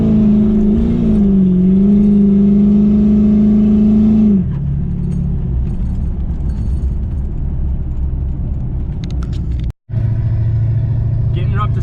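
Stock-tuned LB7 Duramax truck fitted with a turbo horn pulls away and accelerates in town, a loud close engine drone with a rising whine that drops into a steady lower rumble, briefly cutting out near the end.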